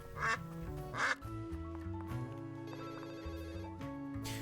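Two short, bright quacks from the cartoon duck in the video game Duck Detective, spaced about a second apart, then further electronic game tones and jingles, with no talking.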